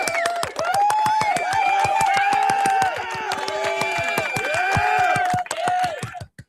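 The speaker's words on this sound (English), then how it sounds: "Golf clap." A golf clap during a TV trivia game: a steady, evenly spaced run of crisp hand claps lasting several seconds, played under talking and laughing voices before stopping abruptly.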